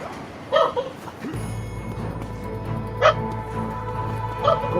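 A dog barks in short bursts, three separate barks spaced a couple of seconds apart over a steady background hum, heard from some distance indoors.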